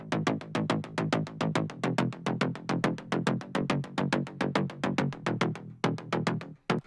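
A fast slap house bass line at 140 BPM plays a punchy triplet pattern of short, evenly spaced hits, loud and alone, with a small variation and a brief drop-out near the end.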